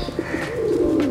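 A pigeon coos close by, a soft rolling throaty call swelling over about a second with no talking.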